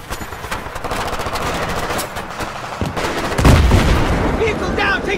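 Loud, dense automatic gunfire from a Battlefield 3 ambush, with rapid overlapping bursts and heavy booms pounding continuously close by.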